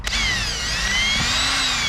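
A power drill boring a hole at high speed while working on a 2019 Ford Transit, a close, loud, steady whine that climbs slightly in pitch and holds without a break.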